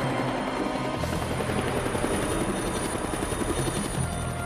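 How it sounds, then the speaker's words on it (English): A helicopter flying overhead, its loud, steady rotor chop and turbine whine filling the whole stretch close and continuous, with no voices. "taking a wild shot at the helicopter."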